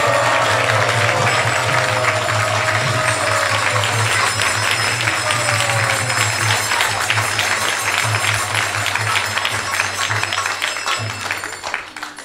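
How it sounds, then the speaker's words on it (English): An audience at a temple applauds a speaker, His Grace Vaisesika Prabhu, with sustained, dense clapping that holds steady throughout and tapers slightly at the very end. "let's give a big round of applause to His Grace Vaisesika Prabhu"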